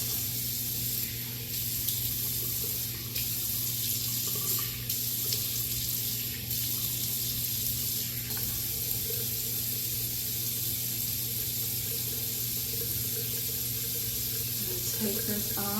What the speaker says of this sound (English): And we're gonna rinse.